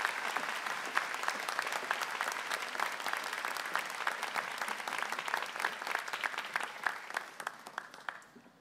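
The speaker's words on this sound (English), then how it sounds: "Let's give them all a round of applause." At a university school of social work convocation, the audience claps in a full, sustained round of applause for award winners, steady and crowded before fading out at the very end.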